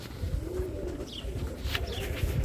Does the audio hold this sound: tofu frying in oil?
no